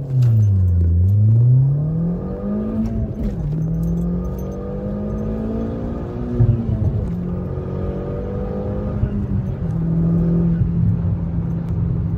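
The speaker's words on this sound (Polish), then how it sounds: "Pierwszy pomiar 0-100 gaz." Seat Leon 1.8T 4x4 with 260 hp pulling hard at full throttle from 0 to 100 km/h at night, its engine note climbing through the gears with short dips at each shift, loud and close throughout.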